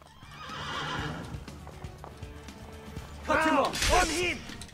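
In Assassin's Creed 2, a horse's hooves clop and it gives a loud, close whinny near the end, over game sounds and a voice.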